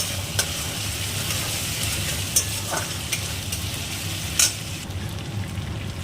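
Ginger paste fries with onions in a hot pan for a rohu fish curry, giving a steady close sizzle broken by a few quick scrapes of a spoon stirring.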